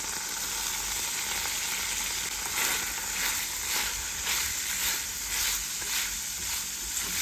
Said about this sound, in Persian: حالا مرغایی که پختیم رو باید یه تفت کوچیکی تو روغن بدیم.